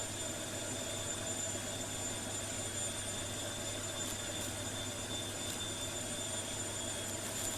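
Steady, faint jet engine drone of a Cirrus Vision Jet in flight inside the X-Plane 12 flight simulator, a continuous even hum with a few small clicks and no speech.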